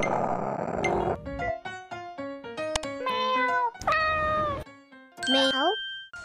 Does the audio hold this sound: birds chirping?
no